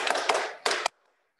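One round of Pramuka scout clapping, a quick burst of rhythmic hand claps followed by a short final pair, close and crisp, then silence.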